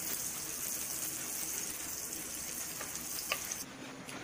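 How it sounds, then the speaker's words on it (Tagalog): Butter melting in a pan over heat, giving a steady close sizzle and frying hiss that runs throughout with no voices. "Kailangan po tayo magpatulong sa nakakatanda po sa atin kasi po lutuin po ang butter. Hanggang sa ito ay matunaw."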